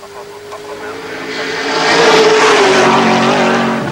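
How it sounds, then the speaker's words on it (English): The Masterton Homes V8 Falcon race car roars past at Mount Panorama, its engine note rising and swelling to a loud peak as it nears, then holding high and strained. "Really tweaking the engine as he heads up to the top of the mountain now."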